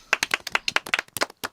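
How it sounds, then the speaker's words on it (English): Podcast hosts clap by hand in a quick, uneven burst of about a dozen sharp, close claps, with no talking. "Hey, we need a round of applause"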